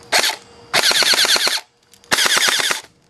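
An airsoft AEG rifle with a broken semi-auto switch fires in loud rapid bursts: a short burst, a longer rattling string, a brief pause with faint clicks, then another sustained burst, each shot crisp and mechanical.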